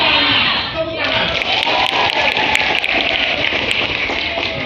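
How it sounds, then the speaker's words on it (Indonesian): Dense, steady applause from a school audience of vocational students fills the whole stretch, a loud continuous patter of many hands with a rain-like texture. "Tepuk tangan."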